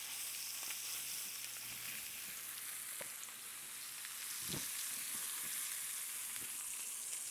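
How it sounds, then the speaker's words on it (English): Beef ribs frying in bacon fat give a steady, faint, close sizzle with scattered soft pops and crackles throughout and no talking over it. "Now I'm frying these off in bacon fat."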